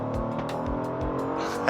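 A Genesis GV80 Coupe with its 380-horsepower 3.5-litre V6 and standard all-wheel drive pulls hard under acceleration, a steady harmonic engine drone from inside the cabin with no talking.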